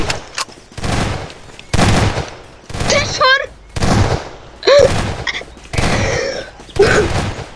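Bursts of game gunfire come in uneven volleys with gaps between them, while a voice speaks briefly over the shooting.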